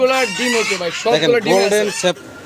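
Fancy ornamental chickens clucking and calling in a close, busy run, with loud overlapping bird voices for about two seconds before dropping to quieter background noise.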